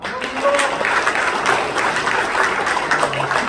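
A crowd at a People Power Party regional federation launch ceremony breaks into brief, steady applause, a close, dense patter of many hands clapping at even loudness with no clear talk.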